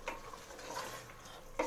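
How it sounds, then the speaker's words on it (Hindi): Masala for chana daal gosht fries in a pan while a spoon stirs and scrapes against the metal, faint clinks and soft sizzling that ends in a sharper clatter. "तो चलिए मसाला हम भूनते हैं।"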